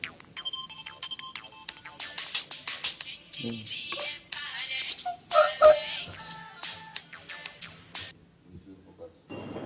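A mobile phone ringtone plays a bright, repeating electronic melody for several seconds, close and fairly loud, then stops near the end.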